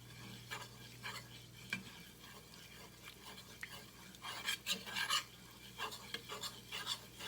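Flour cooks in a pan for brown gravy while a utensil stirs and scrapes it, with a faint sizzle and a run of soft scraping strokes that grow busier toward the middle, close and quiet.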